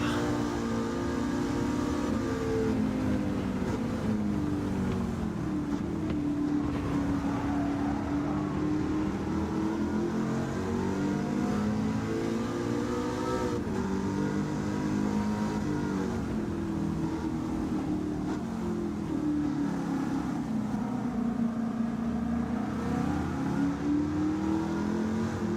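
A Dodge Viper engine in the GT7 racing video game drones and revs steadily, its pitch swelling and dipping through gear shifts over a continuous, even roar.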